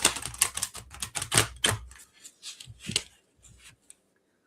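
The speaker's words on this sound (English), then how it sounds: "I just have a placemat underneath my keyboard, and it muffles that sound" Keys tap on a keyboard set on a placemat, a quick run of dull, close clicks that slows into a few scattered taps before fading to silence.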